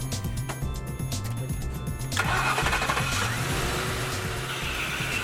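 A Ford Foxbody car engine cranks and catches partway through, then settles into a loud, steady running idle close by, with no voices.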